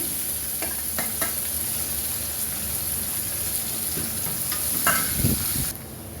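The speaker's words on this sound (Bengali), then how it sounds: "স্লাইস অনিয়ন ঢেলে দিলাম" Sliced onions fry in a pan for an egg masala, a continuous close sizzle with intermittent scraping and stirring strokes that grow louder toward the end before the sound drops off.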